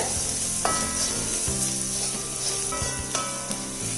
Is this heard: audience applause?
no